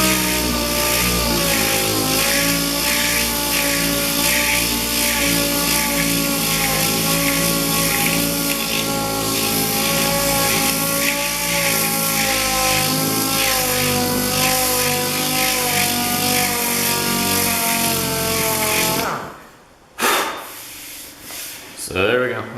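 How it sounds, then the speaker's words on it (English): Air sander fitted with 120 grit paper smoothing a Honda CB500 motorcycle fuel tank, a steady continuous whirring rub running loud and close for about nineteen seconds before cutting off. "air sander and knock the rest down and try and get a smooth, flush surface going"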